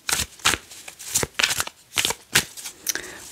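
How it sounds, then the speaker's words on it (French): Tarot cards being drawn and laid out in quick crisp flicks, about a dozen sharp papery snaps in an uneven rhythm, close and alone. "Donc je tire toutes mes cartes, tac, comme ça"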